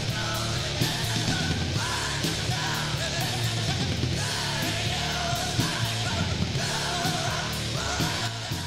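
Screamed metal vocals over a dense, loud full-band track with distorted guitars and drums, the yelling voice continuous and forceful throughout the mix.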